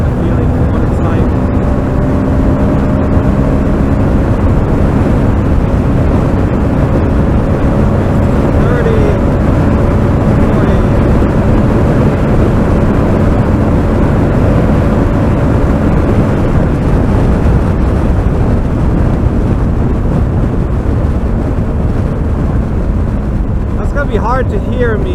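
A KTM 1290 Super Adventure S motorcycle runs at full throttle on the German autobahn. Heavy, constant wind roar and road noise swamp a faint engine drone for the whole stretch without letup.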